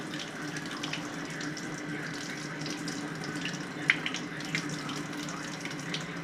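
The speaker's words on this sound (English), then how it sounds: "Now you're just hearing more water" Water runs steadily from a handheld bath nozzle during dog bathing, a continuous close hiss and splash with a few brief louder spatters midway.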